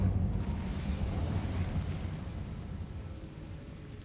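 Incendio fire spell cast in the video game Hogwarts Legacy: a faint, low rumbling burst of flame that roars briefly and then slowly fades away.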